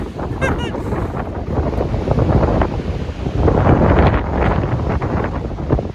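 Strong wind in the Sierra mountains roars steadily and loud against the microphone, a continuous gusting rumble that surges and eases throughout.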